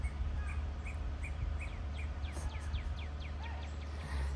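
A bird calls outdoors in a loud, screaming and honking run of sharp repeated notes, fairly close over a low rumbling background, with no voices.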